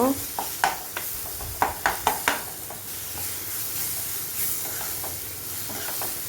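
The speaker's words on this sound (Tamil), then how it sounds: "இது கூடவே நல்லா வதக்கி கலந்து வதக்கி விடலாம்" Garlic paste sautéing in a pan for an Andhra-style garlic egg masala, with a spatula scraping and stirring in a quick cluster of strokes early on, then a steady soft sizzle continuing alone.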